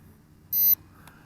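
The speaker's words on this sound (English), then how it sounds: "hold down the return to home button for 5 seconds until I hear a beep" One short, high-pitched electronic beep from a KK10S folding GPS drone's controller after holding the return-to-home button, clear and close, over a faint low hum.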